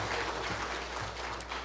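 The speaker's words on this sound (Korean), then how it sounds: "우리 하나님께 영광의 박수 한번 올려드리도록 하겠습니다." Church congregation clapping in praise during a Sunday worship service, a steady, dense wash of many hands that stays fairly even and moderately loud throughout.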